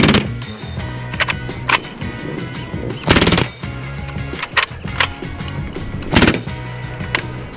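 A Hatsan Blitz .25 caliber air rifle firing full-auto at a range in several sharp bursts of rapid cracks with gaps between them, loud and close, under a steady mechanical hum.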